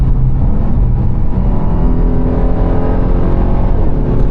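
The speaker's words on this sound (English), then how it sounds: "this is a massive, gas-hungry, supercharged V8, and I love everything about that" A loud, steady supercharged V8 engine roar from inside a 2026 Dodge Durango Hellcat Jailbreak, a deep continuous rumble with rising revs and no talking.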